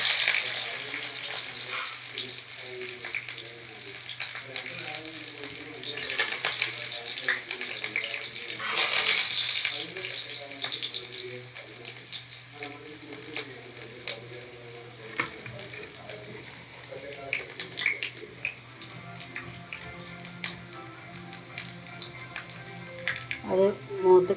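Dried red chillies and shallots fry in hot coconut oil, giving a steady, close crackling sizzle that lasts throughout while a person talks over it.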